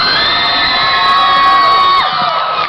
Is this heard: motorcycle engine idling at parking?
no